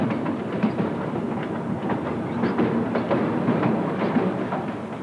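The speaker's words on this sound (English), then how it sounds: "Challenger charged up the last half mile to Sherman." The Challenger steam locomotive climbing to Sherman Hill, a steady heavy rumble with faint rhythmic chugging that holds constant and fairly loud, alone without talk.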